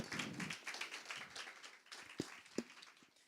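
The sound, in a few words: audience clapping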